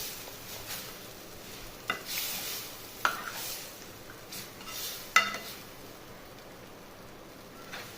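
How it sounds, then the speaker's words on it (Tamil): Dal (paruppu kuzhambu) being stirred in a pan: a soft, steady sizzle with several distinct scraping strokes and light clinks of a spoon against the pan, spaced a second or two apart. "இருந்தாலும் ஒரு 2 செகண்ட் நம்ம நல்லா மிக்ஸ் பண்ணிக்கலாம்"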